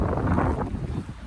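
Strong wind buffets the microphone on the misty, drizzly descent of Mount Andong, a steady low roar that stays loud throughout the short stretch with no voices.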